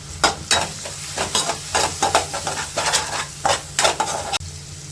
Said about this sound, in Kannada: ಮೊಳಕೆ ಕಾಳು ಹಾಕ್ತಾಯಿದ್ದೀನಿ